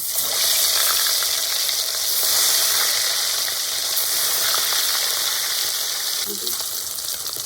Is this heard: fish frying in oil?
yes